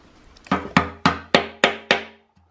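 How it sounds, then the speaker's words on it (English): A hammer strikes a flathead screwdriver wedged against a tight engine oil pan during a Honda K24 engine teardown, five sharp metallic blows in a steady rhythm, close and loud with short ringing decay. "just getting a hammer to a flathead. And he's just prying that thing open"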